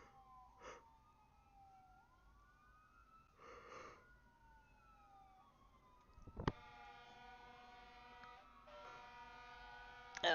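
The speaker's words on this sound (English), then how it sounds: "You're gonna hear the sirens in the background." Emergency vehicle sirens wail in the background, faint and rising and falling, with a louder, steadier tonal siren swelling in near the end.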